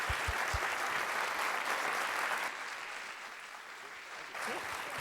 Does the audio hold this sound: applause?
yes